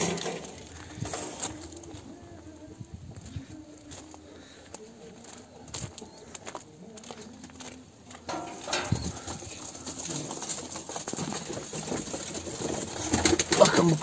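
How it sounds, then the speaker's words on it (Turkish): Racing pigeons coo in a loft, soft low throaty calls repeating near the microphone over about fourteen seconds, with light clattering, rustling and other background noises growing busier toward the end. "Bakın bu kuşumuz da bankacı Faruk amcamızın kuşlarından."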